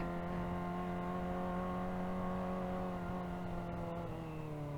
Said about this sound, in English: Ooh, engine braking is very, very strong.